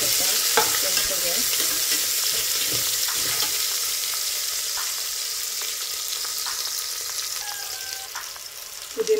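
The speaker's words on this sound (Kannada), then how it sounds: "ಸಿಡಿದ್ಮೇಲೆ 2 ಈರುಳ್ಳಿ ಹಾಕ್ಕೊಳ್ತಾ ಇದ್ದೀನಿ. ಫ್ರೈ ಮಾಡ್ಕೋಬೇಕು ಸ್ವಲ್ಪ ಕೆಂಪಗೆ." Onions frying in a pan with fennel, cardamom and stone flower spices for vegetable pulao, a steady close sizzle with scattered stirring scrapes and clicks throughout.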